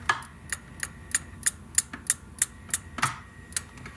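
A 33-inch Hantarex Polo arcade monitor's flyback transformer chirps in a regular series of sharp, clicking ticks about three per second, close and fairly quiet against a near-silent background.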